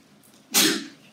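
A single sneeze bursts out in a lecture hall, a sharp, breathy explosion that cuts through quiet room tone and fades quickly, heard fairly close.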